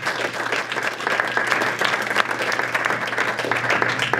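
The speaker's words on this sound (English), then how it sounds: "Let's give them a big round of applause" Sustained audience applause fills a hall after a product presentation by the Wearable team, a dense, steady wash of many hands clapping at close range, with no talk over it.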